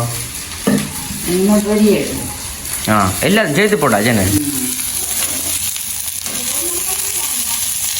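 Oil sizzles steadily in a pan with occasional stirring as eggplant fries, while a person talks in Tamil over the continuous frying hiss.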